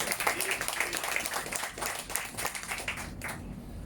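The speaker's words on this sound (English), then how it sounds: "Let's give her a round of applause." Scattered audience clapping at a 100th birthday celebration, a moderate, fairly distant patter of hands that continues evenly for several seconds with background voices faintly mixed in.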